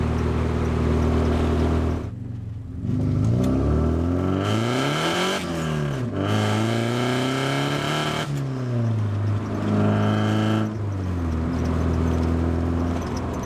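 A supercharged car engine revs repeatedly at part throttle while running poorly, loud rising and falling surges of engine pitch one after another, close up with no talking.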